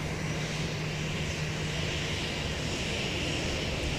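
A Korean Air Boeing 787-9 Dreamliner's jet engines give a steady, broad roar with a constant hum beneath it, heard from an airport in Seoul, unbroken throughout and with no talking.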